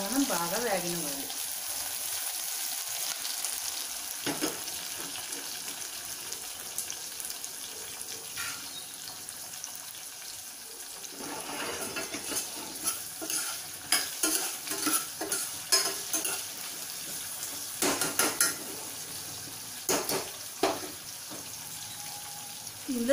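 Onions, green chilies and curry leaves fry in hot oil for a mild Telugu sambar, a steady sizzle under repeated spoon scrapes and stirring strokes that grow busier in the second half.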